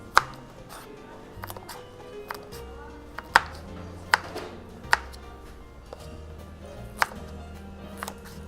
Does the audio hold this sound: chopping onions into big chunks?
yes